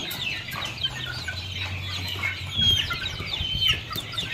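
Young chicks clucking and squabbling in a welded chick cage, with short excited chirps, scuffles and brief wing flaps, close and steady throughout.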